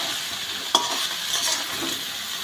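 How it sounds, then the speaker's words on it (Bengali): Vegetables fry with spices in a pan for a khichuri meal, giving a steady bright sizzle marked by a single sharp spoon knock and a few softer stirring scrapes, with no voices. "সবজিগুলোকে আমি ভালো করে ভেজে নেব"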